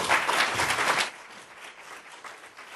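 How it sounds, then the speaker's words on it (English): Audience applause at the 2013 Pitt County Education Summit, a dense burst of clapping for about a second that quickly fades to a faint, scattered patter in a large room. "Can we give them a round of applause?"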